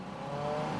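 A Turismo 1600 race car rolls out onto the track at Paine, its engine giving a steady, moderately loud hum with a faint rising whir and no voices.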